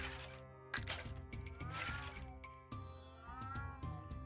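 Game cats in RuneScape 3 meow several times in quick bursts over layered in-game music, with a sharp crack-like hit partway through and no talk.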